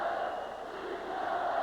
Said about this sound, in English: Crowd, as you can hear, yelling, beat L.A.